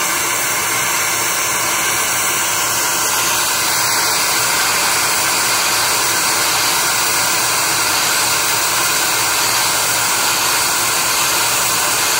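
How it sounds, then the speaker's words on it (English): A loud PCB mill vacuum starting up roars steadily with a harsh, rushing whoosh like a jet engine, constant throughout and up close. "It's most dramatic when the vacuum starts up."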